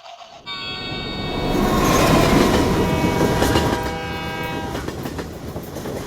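A slow passenger train runs close by, a loud horn blast over rolling clickety-clack wheels and rumbling carriages, building after a brief quiet start and staying steady.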